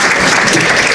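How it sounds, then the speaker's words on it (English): Loud, dense clapping from a conference audience at a Somali diaspora youth event, a brief continuous burst of many hands close by with no talking. "All right, clap for her."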